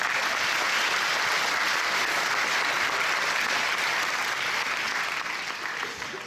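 An audience at the Miss Poitou-Charentes 2017 election breaks into sustained applause, a dense even clapping that carries through and eases slightly toward the end.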